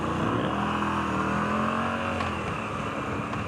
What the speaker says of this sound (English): Why so much traffic today?